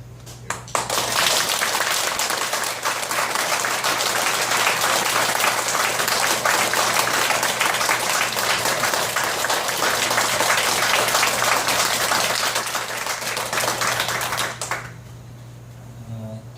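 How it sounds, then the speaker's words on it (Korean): A congregation at a Won Buddhist dharma-title conferral ceremony gives warm, sustained applause, a dense and even wash of many hands lasting about fourteen seconds over a low hum before fading out quickly. "정말로 뜨거운 박수를 한번 아낌없이 쳐드렸으면 좋겠습니다"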